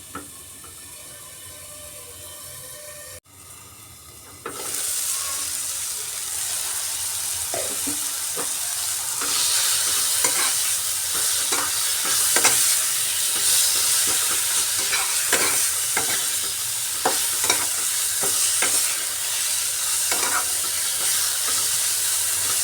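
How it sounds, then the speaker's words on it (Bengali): Tomato and green chilli fry in a pan with a steady close sizzle, while a spoon scrapes and stirs in repeated strokes throughout. "টমেটো আর কাঁচা লঙ্কাটা দিয়ে একটু ভালো করে মিশিয়ে কিছুক্ষণ ঢাকা দিয়ে রাখছি"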